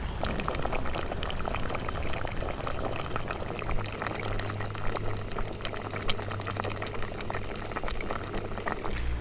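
Bamboo shoots boil in a pot, giving a steady, close, dense bubbling and rolling simmer that continues without a break, with no talk.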